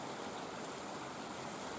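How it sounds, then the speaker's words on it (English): A small stream at a riverside campsite after Cyclone Gabrielle flows in a dense, steady wash of faint rushing water, uniform and unbroken, with no voices. "And that wee stream there, we walked up there a couple of times."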